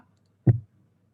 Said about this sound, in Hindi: मैंने क्लिक किया